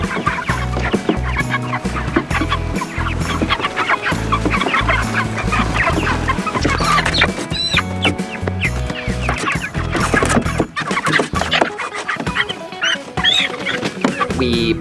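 A flock of broiler chickens moved into a small chicken tractor clucks and squawks loudly and continuously up close, with thumps and rustling mixed in.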